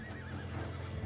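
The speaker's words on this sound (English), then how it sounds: "He's on a horse now" A horse in the video game Red Dead Redemption 2 gives a short, quiet wavering whinny over faint galloping hoofbeats, lasting about a second.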